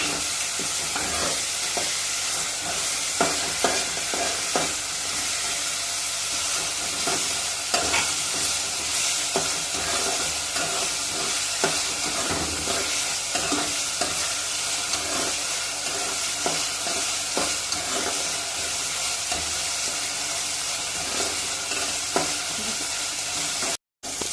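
Tomato, garlic and onion masala sizzling in a pan while being stirred continuously: a dense, even frying hiss with frequent spoon scrapes throughout, close and fairly loud.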